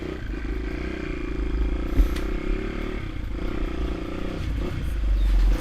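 Restored Honda XR200R dirt bike riding along, a steady close engine putter with light clattering and rising throttle near the end.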